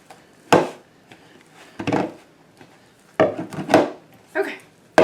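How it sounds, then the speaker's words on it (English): Salt dough being mixed by hand in a bowl, several separate scraping and thudding strokes with short pauses between, close and fairly loud. "Mix it in really, really good."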